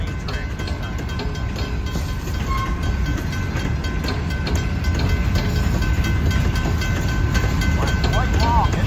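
An Ann Arbor Railroad grain train rolls past at State Street on the main track, a continuous loud rumble and rhythmic wheel clatter that swells toward the end, with faint voices talking underneath.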